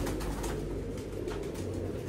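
A pigeon coos in steady low repeated calls, close and fairly loud, over a constant background hum, with no voices.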